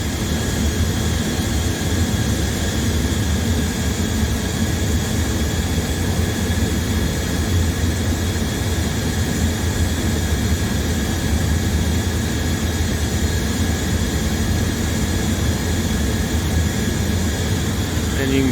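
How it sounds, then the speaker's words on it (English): The main burner of an Intellipack heater with a no-heat fault fires with a loud, steady roar and a constant broadband rush, unbroken and close for the whole stretch, with no voices over it. "So with that main burner, it's trying to fire too"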